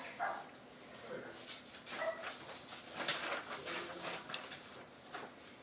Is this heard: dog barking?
yes